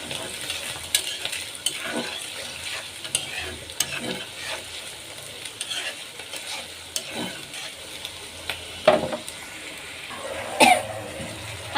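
Onion, ginger-garlic paste, turmeric, chili, coriander, cumin and cinnamon sizzle and fry in a pan while being stirred, with a soft continuous crackle, scraping stirs and an occasional cough nearby.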